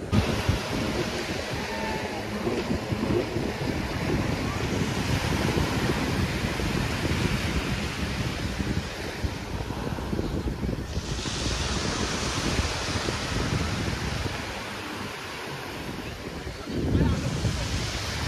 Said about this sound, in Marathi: छान वाटते बघा इथून लाटा वगैरे येताना.